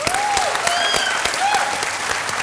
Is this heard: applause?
yes